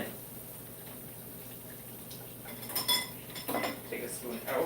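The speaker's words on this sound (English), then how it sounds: "I am going to whisk this in." A whisk beats ingredients in a bowl during a home cooking session, quiet at first, then bursts of quick metallic clinking and scraping grow louder toward the end.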